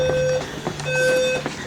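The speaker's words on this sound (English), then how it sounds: "It's an alarm." An electronic alarm sounds in a room with short, steady tonal beeps, fairly loud and close, repeating in a broken pattern with brief gaps.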